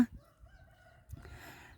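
A rooster crows once, fairly close and clear, with a drawn-out call followed by a rougher tail, over a quiet rural background.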